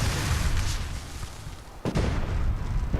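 Fireworks bursting over a park at night in the Fallout video game, a muffled rumbling backdrop punctuated by two sharp booming pops near the end.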